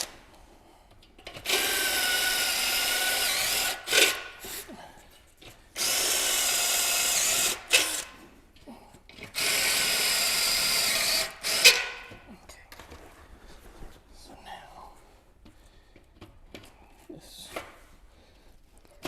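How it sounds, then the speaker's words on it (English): A power drill with a step bit whines in three sustained bursts, each a few seconds long, drilling out a metal tab on a Subaru WRX, with short pauses and faint handling noises between them. "drill these out just a smidge, not the self-tapper, but the step bit"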